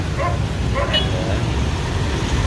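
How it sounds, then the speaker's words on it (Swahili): Police security dogs bark a few short yelps amid crowd and road noise at a tense outdoor scene with mounted police on patrol, the barks loud and close over steady traffic hum, with voices in the background. "Mbwa wa usalama na wenyewe"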